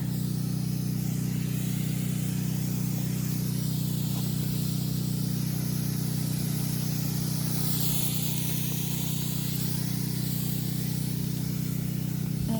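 A motorized farm sprayer hisses steadily over plum trees in an orchard in Cyprus, its continuous spray running over a constant low engine drone, close and loud throughout with no talking.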